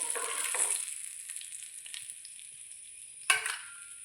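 Masala-coated bhootai sardines frying in a pan give a steady, close sizzle with a sharper burst of crackle near the end, no voices.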